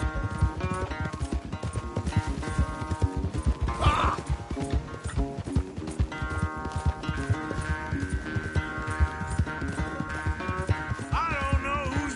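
Several horses gallop flat out in a Red Dead Redemption 2 race, with a steady, dense clatter of hooves and a brief whinny over a constant tonal backdrop, and faint voices now and then.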